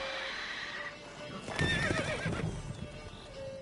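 A horse in the video game Witcher 3 lets out a loud, shuddering neigh midway through, with hooves clip-clopping and soft ambient game sounds around it.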